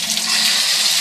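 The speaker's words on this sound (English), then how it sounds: "And it's shower time." Indoor shower water running, a steady loud hiss of spray with no breaks, close by.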